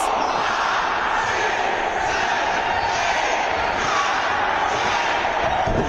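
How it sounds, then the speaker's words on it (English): A hot pro wrestling crowd in Chicago roars steadily and loudly throughout, a dense wash of cheering and shouting from a packed arena with no break. "You hear this crowd in Chicago just hot to see Cole get"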